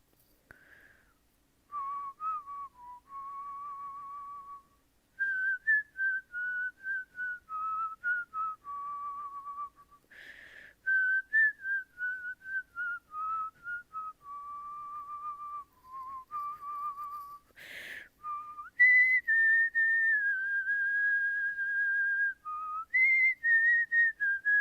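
A lone whistler carries a melody line at a school band talent show, clear sustained notes rising and falling in long phrases with short breaths between them.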